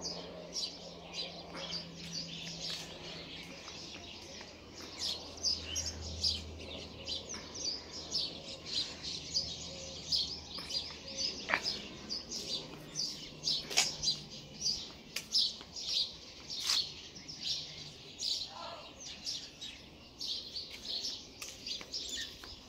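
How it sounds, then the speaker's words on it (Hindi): Many birds chirp and tweet on a morning outdoors, short bright calls repeating irregularly at moderate distance, with occasional soft background sounds beneath. "ये देखो पंछी उड़ रहे हैं।"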